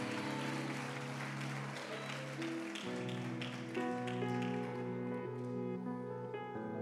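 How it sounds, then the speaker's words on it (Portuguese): A church congregation claps in praise to the Lord, brisk clapping that is partly buried under sustained organ or keyboard chords, moderately distant in the hall. "Dê um aplauso ao Senhor, meu irmão,"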